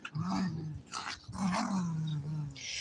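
Dog growling in low rumbling bursts close by, rising and falling over a few seconds, fairly quiet with faint household noise around it.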